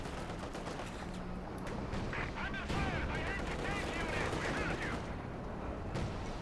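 Artillery barrage and gunfire in Company of Heroes 2, a dense, continuous mix of distant booms, rattling bursts and crackling shots under a commentator's voice talking steadily throughout.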